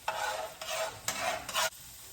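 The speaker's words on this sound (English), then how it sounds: "So now we got the sizzle going." Garlic sizzles and crackles in a hot pan in several bursts as it is stirred, close and fairly quiet, with no talking.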